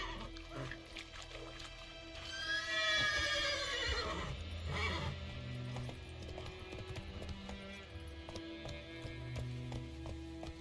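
Roach, a horse in The Witcher 3, lets out a loud, drawn-out whinny that rises and falls over a few seconds, surrounded by game ambience and soft hoof clops.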